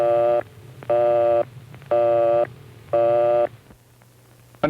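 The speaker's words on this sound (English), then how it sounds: "If the line is busy, you'll hear this busy signal." A telephone exchange busy signal on a rotary phone line: four even, rapid on-off tone pulses about half a second each, loud and regular, then a faint hum.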